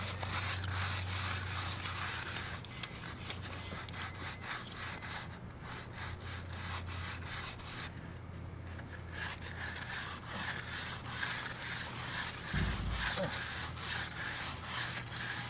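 Wood being worked by hand with a continuous rough scraping and rubbing texture, steady and close, with a brief knock partway through.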